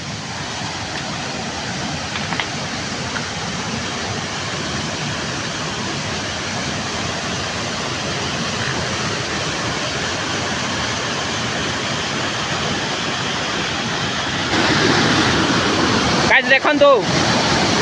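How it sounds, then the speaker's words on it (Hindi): Khuntapashi Ghagi waterfall in Keonjhar pours in a steady, broadband rush that fills the whole clip, growing louder near the end. Someone speaks briefly over the falling water. "देखंतु गाइस केते सुंदर लागुची वाटरफॉल टे आज्ञा।"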